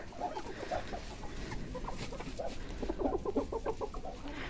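Hens cluck steadily in a coop, a busy overlapping flock of short nearby clucks filling the whole stretch with no pauses.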